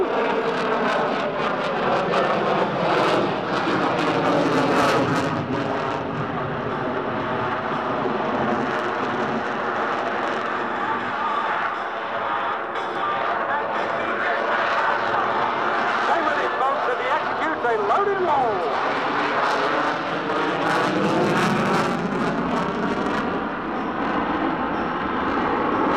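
An F-22 Raptor fighter jet with F119 engines using thrust vectoring roars through a power loop at an airshow, a loud, sustained jet rumble and howl that shifts in pitch as it passes, with a commentator talking over it.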